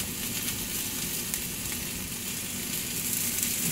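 Shrimp and spices sizzle steadily in a paella pan as they are stirred, a dense, continuous frying hiss that stays loud and close throughout with no talking.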